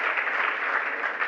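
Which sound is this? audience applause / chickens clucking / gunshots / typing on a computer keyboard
audience applause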